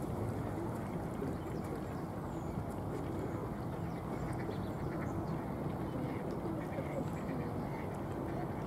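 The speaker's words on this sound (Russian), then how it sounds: "Ну, на берегу сидят уточки." Ducks quack on a shore, scattered calls over a steady bed of outdoor background noise, with people talking nearby at moderate distance.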